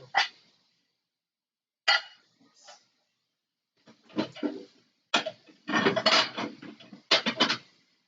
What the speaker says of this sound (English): the clanging of the dishes or whatever is like loud and annoying on the stream